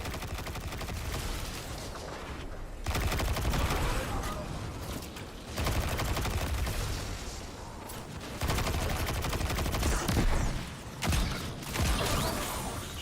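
Shotgun fire in the video game Destiny 2: loud, heavy blasts in bursts separated by brief gaps, with mechanical clacks and creaks of reloading between the shots.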